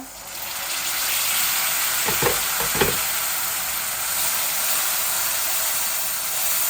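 Spices sizzling and frying hard in a hot pan after a splash of water, a steady loud hiss throughout with a couple of brief stirring scrapes near the middle.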